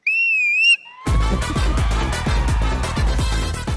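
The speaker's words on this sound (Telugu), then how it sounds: "ముగ్గురు గురించి ఒక్కొక్క స్టైల్లో విజిల్ వేయాలి" A clear, high whistled tune with wavering pitch for about a second, then bright rhythmic music with a steady beat takes over.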